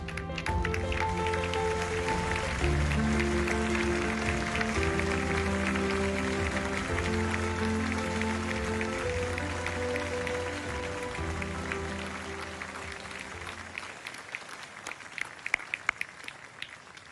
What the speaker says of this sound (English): one final round of applause to all of tonight's honorees